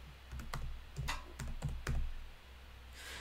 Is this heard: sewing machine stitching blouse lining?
no